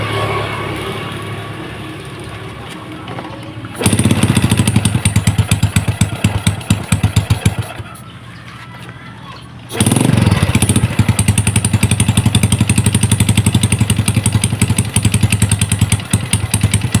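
A Yamaha Jupiter Z motorcycle with a slipping kick-start mechanism is started and its engine runs with a loud, steady close-up putter, cutting out briefly before firing up again and running on.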